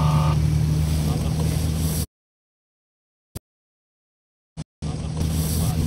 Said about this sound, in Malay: laju bot dia orang